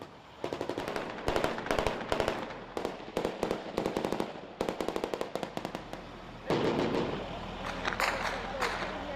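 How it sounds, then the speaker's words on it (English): Bursts of rapid gunfire crack out in quick volleys during a battle with ISIS in Iraq, some sharp and close, others in long rattling strings, with a rumbling blast near the end. "Now there's more incoming fire."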